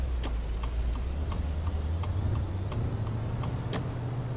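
A taxi engine in Taxi Life Simulator hums low and steady while driving, with faint regular ticking over the drone; no voices.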